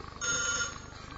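A telephone rings on a Turkish TV call-in show, one bright trilling ring held briefly over a low studio hum.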